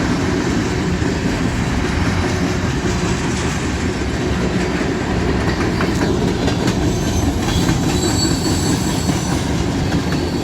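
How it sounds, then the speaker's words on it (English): A long train rumbles past close by, with constant clattering wheels and faint metallic squeals, loud and unbroken throughout. "It's a long train. It's moving pretty good."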